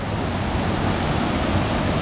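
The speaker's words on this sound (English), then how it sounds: "So you can see there's a lot of rocks and rapids on this creek." A rocky creek rushes through rapids in a steady, broadband roar of water, constant and close, with no voices over it.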